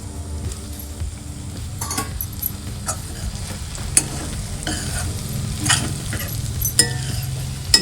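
Paneer frying in ghee on a low flame, a steady soft sizzle with scattered clinks and scrapes of a utensil stirring in the pan, close and without talk.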